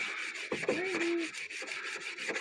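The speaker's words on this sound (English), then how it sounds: "As you're sanding on that rod and cleaning up" Quiet scraping strokes of sandpaper rubbing against a rusty metal rod from a DeWalt planer, a short steady rasp with a faint squeak partway through.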